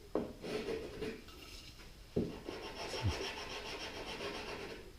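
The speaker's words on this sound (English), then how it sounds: "I need to sand the ends" The wooden ends of a countertop are sanded by hand, close up, in rough rasping strokes with a couple of sharper knocks as the block shifts.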